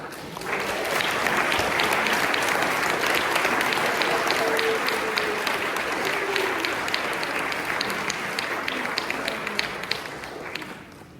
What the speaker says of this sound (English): And all of us will clap for those who made this happen.